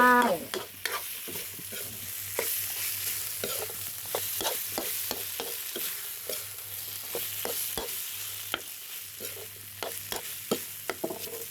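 Field catfish stir-fried with southern Thai curry paste and kaffir lime, a steady sizzle and frying hiss with frequent sharp scrapes and knocks of a spatula stirring the pan, close and continuous with no talking.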